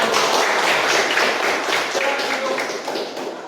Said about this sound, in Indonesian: kita beri tepuk tangan semuanya